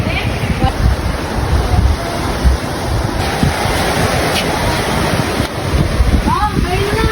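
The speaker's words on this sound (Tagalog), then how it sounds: "Wow, sarap ng hangin." Strong seashore wind roars steadily over crashing surf, loud and close with buffeting on the microphone, while voices chatter faintly underneath.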